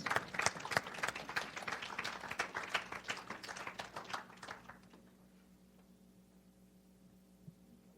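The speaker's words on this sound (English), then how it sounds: "I think you deserve a hand of applause" Audience applause fills a school hall at a study abroad event, dense clapping from a crowd that fades out halfway through, leaving a low room hum.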